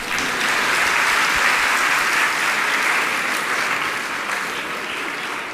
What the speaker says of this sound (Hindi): और देखो इसमें भी ज्यादा जोरदार तालियां घरवालियों ने बजाई है।